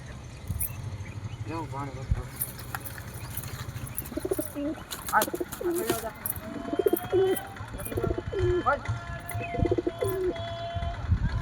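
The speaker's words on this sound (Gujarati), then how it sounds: "કંઈક કબૂતરા છે તો પાણી પીવે છે જોઈ શકો છો" Pigeons coo repeatedly at close range under a low steady hum, with a person talking intermittently and occasional wing flutters.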